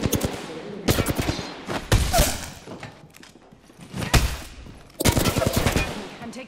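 Apex Legends gunfire comes in loud, rapid automatic bursts with brief gaps between them, set over faint game sounds.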